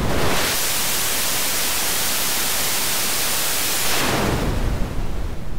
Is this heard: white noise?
yes